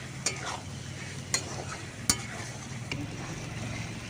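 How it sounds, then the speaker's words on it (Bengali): Clam curry with garam masala is stir-fried in a pan, giving a steady sizzle with a few sharp scrapes and clacks of a spatula against the pan, close and moderately loud with no talking. "গরম মশলাটা দিয়ে ভালো করে আবারও একটু কষিয়ে নিচ্ছি এবার"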